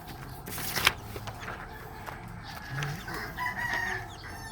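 Chicks peep faintly around a mother hen, with soft clucks and scattered high chirps over a low, rustling background close by.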